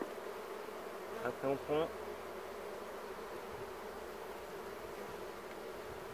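Steady buzzing of many bees at a beehive as a frame is slowly lifted during hiving and super placement, a constant close drone with a brief spoken phrase near the start.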